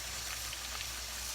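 Pork cutlets fry in hot grease with a soft, continuous sizzle and hiss, faint and steady, with no voices.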